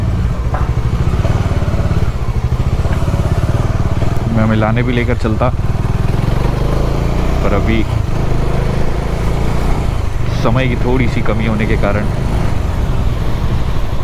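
A motorcycle engine rumbles steadily throughout at close range while riding through a street in Raipur, India, with traffic noise around it, while someone talks over the ride.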